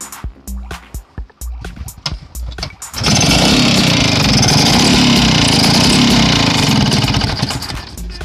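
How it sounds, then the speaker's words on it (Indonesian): Vespa scooter with a right-side engine and a rattling, noisy fault: a few seconds of sparse clicks and knocks, then the engine bursts into a loud, continuous, raspy running roar that holds steady to the end. "Ya, bunyi seperti itu, kemerasak"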